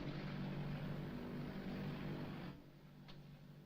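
A steady airplane engine drone heard from inside a 1930s aircraft cabin, a low continuous hum that drops in level partway through as if cut to a quieter line, with no voices.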